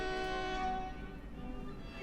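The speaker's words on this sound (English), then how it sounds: "here's our first electric train, already picking up decent speed" Electric train picking up speed in the railway simulation game Transport Fever 2, heard as a sustained tonal hum with a long horn-like whistle over steady rolling rumble, moderately loud with no talking.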